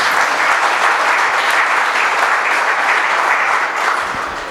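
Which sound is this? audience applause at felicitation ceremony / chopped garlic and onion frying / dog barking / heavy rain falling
audience applause at felicitation ceremony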